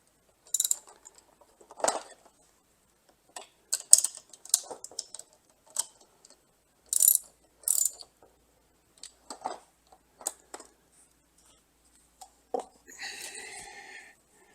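Tonneau cover fasteners on a Worksport AL4 flip-up hard cover being tightened with a ratchet: scattered bursts of clicking and metallic ticking, close and moderately loud, with pauses between, ending in a longer rattling pass.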